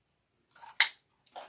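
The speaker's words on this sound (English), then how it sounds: "I am going to trim these up top" Scissors snip through deco mesh while trimming a beach-themed wreath on an evergreen base, giving one sharp, close cut followed by softer rustling snips, isolated with no talk.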